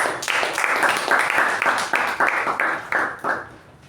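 Applause from a Toastmasters club meeting audience, a lively round of clapping with distinct individual claps standing out, fading gradually over a few seconds.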